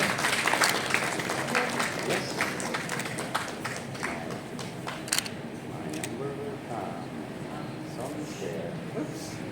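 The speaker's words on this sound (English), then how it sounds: "Can we clap?" An audience at a ceremony in Delhi claps together at first, the applause gradually thinning into scattered claps beneath murmuring voices.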